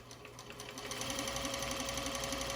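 A Juki 1541S industrial sewing machine winds a bobbin, a steady whirring hum that speeds up and builds in loudness over a couple of seconds.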